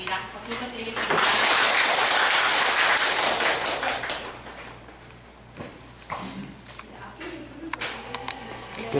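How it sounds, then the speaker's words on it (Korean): An audience at the Daum Pot opening event claps for a guest who is being introduced. The applause swells for a few seconds and fades into voices and scattered taps. "박수 부탁드리겠습니다"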